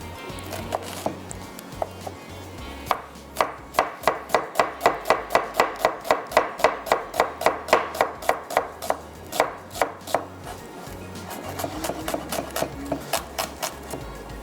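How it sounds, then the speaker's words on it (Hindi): Quick knife strokes slice an onion finely on a cutting board in a home kitchen, a close, rapid run of crisp chops in a steady rhythm that starts slowly, speeds up and tapers off at the end. "एक अदद प्याज ले लें और इसको कर लें आप फाइन स्लाइस।"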